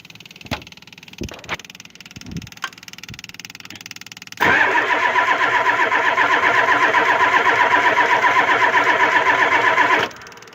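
A Ford 7.3 IDI diesel engine, a few scattered clicks and knocks, then a loud, even cranking drone that starts abruptly, runs steadily for several seconds without catching, and cuts off.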